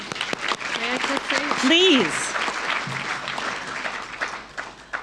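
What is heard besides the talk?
audience applause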